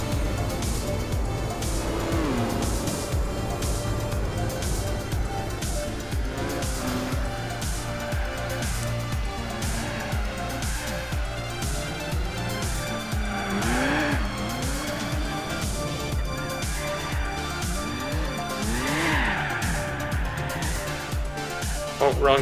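A Nissan Skyline in Gran Turismo 4 slides through tight corners with repeated drawn-out tire squeals over a constant revving engine drone, with a steady bed of background music throughout.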